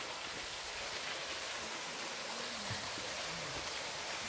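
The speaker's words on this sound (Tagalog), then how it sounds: "Ayan na, batis." A stream in the Ein Avdat desert canyon flows with a steady, even rush of water, a constant broadband wash with no voices and no clear splashes.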